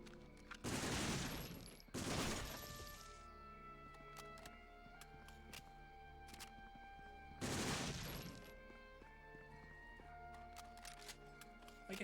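A silenced pistol fires in Medal of Honor: Frontline, a few short muffled bursts with gaps between them over a steady, humming game background.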